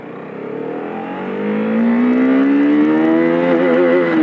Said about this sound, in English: Let's see how much it does in first gear.